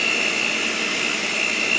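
An electric stand mixer runs steadily, its motor giving a continuous loud whine with a sharp tonal hum as the beaters work through thick dough.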